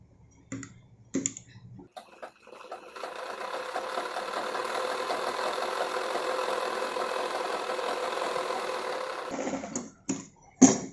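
A sewing machine stitches a narrow half-inch folded hem on the leg of a chudi pant, a steady mechanical whirr of rapid needle strokes running for several seconds between short start-and-stop bursts.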